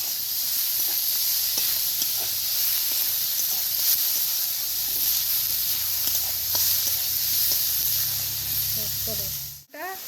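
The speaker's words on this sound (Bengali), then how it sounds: "পেঁয়াজ কুচি দিলাম, ভালো করে পেঁয়াজগুলো কুচি দিয়ে ভালো করে নাড়াচাড়া করছি।" Chopped onions frying in a pan for a chicken curry give off a steady close hiss and sizzle, broken by soft scrapes and knocks of a utensil stirring them, and a brief voice sounds near the end.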